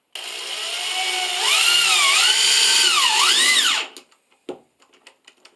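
A power drill drives a self-tapping screw into a metal pipe flange on a tabletop, its motor whining loudly for several seconds with pitch dipping under load, then stopping, followed by a few short clicks and taps.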